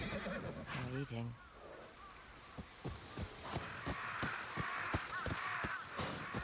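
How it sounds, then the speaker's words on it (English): Crows caw repeatedly in the video game Ghost of Yōtei, a rapid series of sharp calls over a rushing ambient bed, after a brief spoken voice at the start. "Crows. Always chatting."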